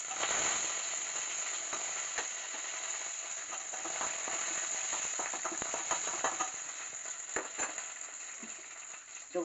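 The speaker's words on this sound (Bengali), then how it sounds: "কড়াইতে তেল দিয়ে দিলাম, ফোড়ন দিচ্ছি শুকনো লঙ্কা" Dried red chillies, five-spice seeds and curry leaves crackle in hot oil in a kadai, a continuous soft sizzle dotted with irregular spits and pops, fairly quiet and unaccompanied by speech.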